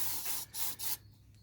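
A rag rubs degreaser off a VW T5 CV joint in three quick scrubbing strokes, close up, followed by a quiet pause with no talking.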